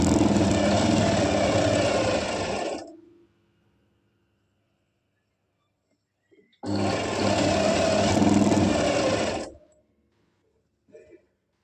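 A sewing machine stitching the side seams of a palazzo with a pocket, two long continuous whirring runs of about three seconds each, loud and close, separated by a quiet pause with small handling clicks.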